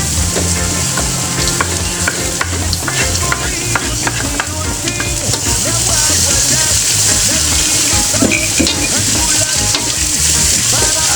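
Potatoes fry in a pan with garlic and onion, giving a loud, unbroken sizzle with steady stirring and scraping throughout and no voice.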